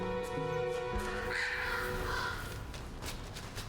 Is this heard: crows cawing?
yes